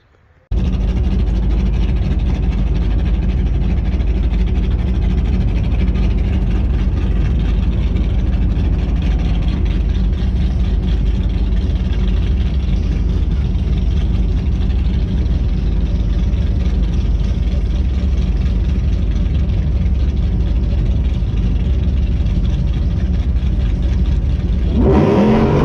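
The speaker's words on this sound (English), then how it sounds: "I'm going to show that video right now, me breaking the axle on the launch" A Whipple-supercharged Ram truck holds a loud, steady low engine roar at the track for the full clip, with no clear launch burst or axle snap, and it cuts off abruptly at the end.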